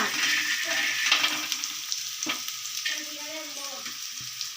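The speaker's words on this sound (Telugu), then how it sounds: "ఇక్కడైతే కొన్ని బుడ్డలు అయితే వేయించుకుంటాను" Peanuts fry in a pan for a red chilli chutney, giving a steady close sizzle broken by scraping stirs and small bursts of spattering throughout.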